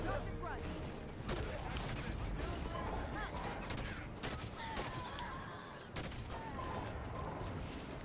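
Gunfire in Halo 5: Guardians on Legendary difficulty, with a railgun among the weapons, sounds as a dense, sustained stream of shots, impacts and crashes at steady high loudness throughout the fight.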